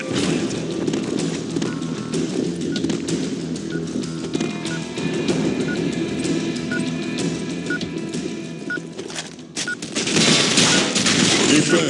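Rapid gunfire in the video game Blackshot, a steady clatter of shots over game noise at moderate level, with a louder burst near the end.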